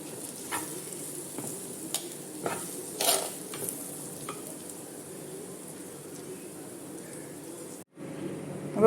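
Prawns sizzle in a pan for a Kerala prawn and raw mango curry, with steady frying hiss and several sharp scraping stirs of a spoon against the pan, close and alone, ending in a brief clatter.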